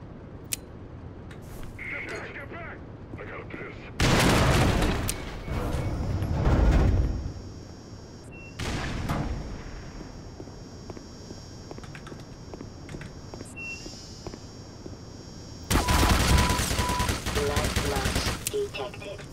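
Two long bursts of rapid automatic gunfire from the video game Black Mesa: Xen, loud and close, separated by quieter stretches of game ambience and a shorter burst in between.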